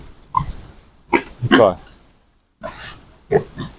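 Pigs grunting in a pen on a Ukrainian pig farm, a few short grunts in separate bursts with people talking among them.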